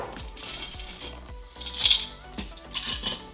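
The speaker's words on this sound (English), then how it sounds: "I'm gonna put in my silverware." Metal silverware clinks and rattles as it is dropped into a caddy for outdoor dining, with three or four short bursts of clatter at a close distance and no talking.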